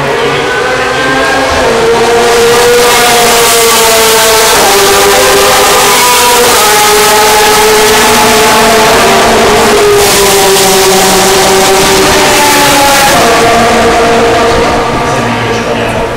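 An LMP2 prototype race car at the Hungaroring during European Le Mans Series qualifying, its loud engine note rising and falling steadily through gear changes as it passes, with commentary running underneath.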